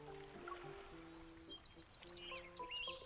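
Quiet, high bird chirps and chattering tweets from a flock in the video game Love and Deepspace at a beach scene, over a low soft background tone.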